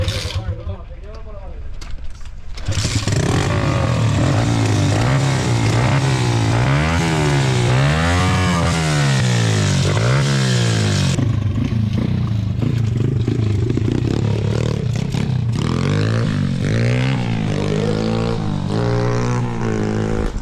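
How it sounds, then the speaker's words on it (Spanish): A small 125cc motorcycle engine revs repeatedly up and down, loud and close, with clattering mechanical noise and a voice speaking in Spanish over it. "Mira aquí qué pasada de motos. Son 125."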